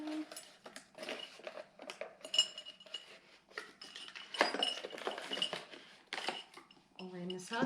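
A ceramic sugar bowl and its spoon are unpacked from packaging, giving scattered clinks and rattles of china and cutlery close by, mixed with rustling and intermittent talk.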